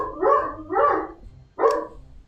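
A dog barks three times in distinct bursts, two close together and then a third after a short pause, fairly loud and near with no talking over it.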